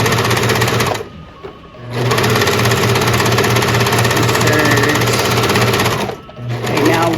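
A serger sewing machine stitches in fast, loud bursts up close, with two short pauses between runs and a faint voice speaking during the breaks.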